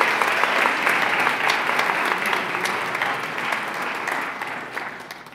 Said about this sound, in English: Let's give our school-based winners one more round of applause.